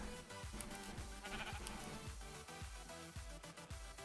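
Minecraft sheep bleat repeatedly in quick succession, a rhythmic series of wavering calls layered over game background noise, no talking.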